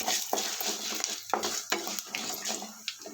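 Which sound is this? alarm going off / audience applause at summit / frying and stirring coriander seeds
frying and stirring coriander seeds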